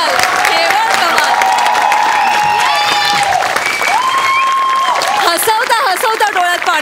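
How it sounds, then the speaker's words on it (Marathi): Audience applause and cheering at a Marathi comedy show fill the hall in a loud, continuous wash, with a voice speaking over it. "जोरदार टाळ्या"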